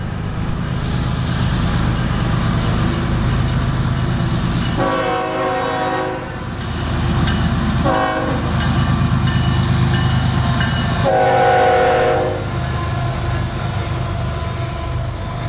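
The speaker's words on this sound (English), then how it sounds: "our first true catch of the day was a southbound stack train with a handful of Tropicana juice reefers" A long southbound CSX freight stack train with juice reefers rumbles steadily past nearby in Folkston, with a loud horn sounding in three distinct blasts over the continuous rolling noise.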